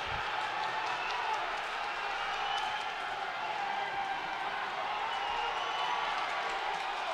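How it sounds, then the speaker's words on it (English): A crowd at a regional MMA event, the Dakota Fighting Championship Spring Brawl, keeps up a steady, loud roar of cheering through the late seconds of a fight, with commentators talking over it. "Crowd getting nice and loud for everybody"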